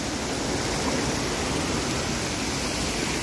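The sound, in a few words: waterfall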